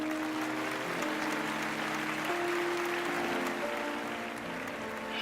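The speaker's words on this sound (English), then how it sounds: "and the burst of applause." A burst of applause rises in a room after a hushed moment, steady dense clapping filling the space for several seconds alongside sustained musical tones underneath.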